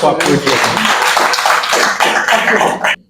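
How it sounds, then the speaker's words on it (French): Dense, continuous clapping from a crowd fills the clip at high volume, then cuts off abruptly near the end. "On peut applaudir."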